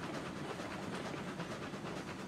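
A train in the Railroads Online video game labours up a steep bare-rock grade, a steady rumbling chug with rhythmic clatter that holds at an even level throughout, with no talking.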